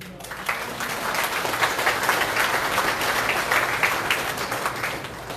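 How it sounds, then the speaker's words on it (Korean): Sustained applause fills the hall as guests are introduced at a Liberty Korea Party provincial chairman's inauguration, a dense, steady clapping of a large crowd that continues evenly throughout. "한 분 한 분 소개해드릴 때마다 큰 박수로 환영해주시기 바랍니다"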